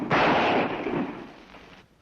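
A single loud boom from a revolver loaded with blank cartridges, followed by a short decaying echo, in an old western drama scene.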